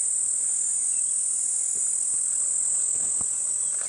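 Male cicadas calling to attract females at sunrise on a safari drive, a steady high-pitched insect drone that holds unbroken throughout with a few faint clicks beneath it.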